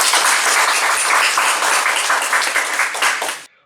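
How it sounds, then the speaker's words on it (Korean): A lecture audience breaks into loud, close applause to welcome a speaker giving a talk on ChatGPT, a thick continuous patter of many hands that cuts off abruptly at the end. "큰 박수로 맞이해 주시기 바랍니다."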